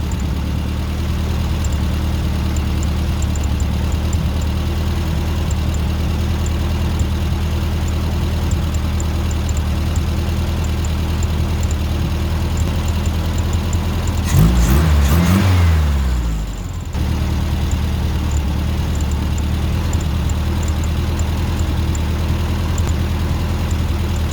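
Volkswagen Super Beetle engine with a newly adjusted carburetor, idling steadily with a loud, even low drone, a brief rev swelling and falling midway before settling back to a smooth idle.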